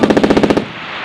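Marine Corps machine gun section firing at a desert range, a close, loud burst of about ten rapid shots in even rhythm, then a ringing echo that fades.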